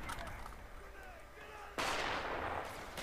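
Gunfire in the video game Call of Duty Black Ops during a team deathmatch, a sudden loud burst of shots in the last second following quieter game ambience.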